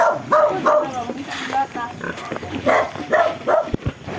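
Pig grunting and squealing nearby, several short nasal grunts in an uneven rhythm, with people talking at the same time.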